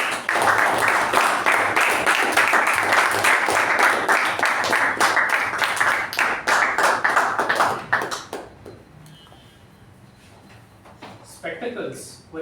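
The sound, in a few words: round of applause for the Toastmaster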